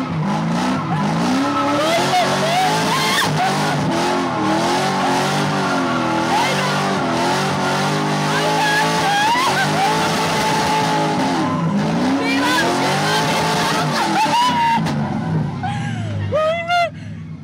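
A car drifting in practice for a drift championship, its engine revving hard and rising in pitch while tires squeal and skid almost continuously, loud and close, with a voice speaking intermittently over the noise.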